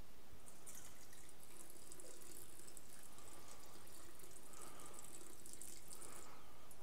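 Water runs from a tap into a vessel to measure it for English muffin dough, a soft continuous splashing and trickle with faint watery gurgles, fairly quiet and without talk.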